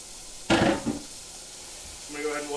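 Bacon sizzling in a hot pot while cooking halibut, a soft steady frying hiss under a loud burst of kitchen handling noise and a brief stretch of low background voice.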